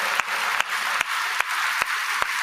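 A congregation at a Telugu church sermon claps to glorify God, a steady even rhythm of single claps at about two and a half per second over a soft background hiss.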